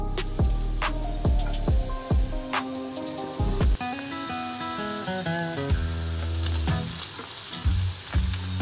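Small chopped aloe vera pieces dropped into hot homemade hair oil, crackling and sizzling with sharp popping bursts and bubbling tones, close and loud without any talking.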